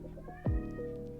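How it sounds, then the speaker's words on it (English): A house cat gives one loud, drawn-out meow that bends downward, close to the microphone in a quiet room. "Did you hear my cat yelling at me?"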